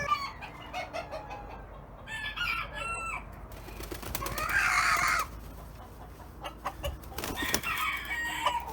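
Chickens cluck and squawk repeatedly nearby, with a loud burst of agitated cackling midway and scattered calls throughout.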